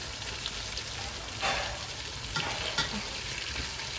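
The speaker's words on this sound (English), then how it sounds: "And we're gonna wait for it to fry a bit." Spotted grouper (hammour) fish fry in a pan with a dense, continuous sizzle, loud and close, with a few brief surges of crackling and no speech.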